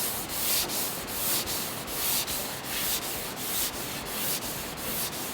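Block sanding of black urethane primer surfacer over a skim coat of filler on a car hood, heard as steady, rhythmic back-and-forth rasping strokes, close and continuous with no talking.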